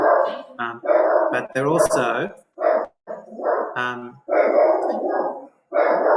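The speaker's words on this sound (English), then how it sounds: "sorry about the dog in the background there" A dog barks repeatedly in the background, in loud bursts, under and between a person speaking during an online livestream.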